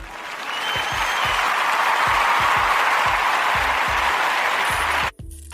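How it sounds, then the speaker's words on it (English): Sustained applause from a crowd fills the space steadily for about five seconds, a dense even wash of clapping that cuts off abruptly near the end. "I need to give a round of applause to these people."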